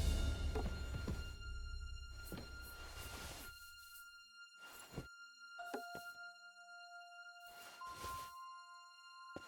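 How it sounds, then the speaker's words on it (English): A deep bell tolls several times in the medieval setting of Kingdom Come: Deliverance II, each strike ringing out with a long humming decay over a quiet ambient background. "The 6th bell."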